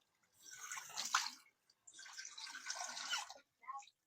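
Tap water runs steadily into a kitchen sink during washing up while pancit canton is being cooked, two sustained bursts of moderate splashing flow with a short pause between them and a brief trickle at the end.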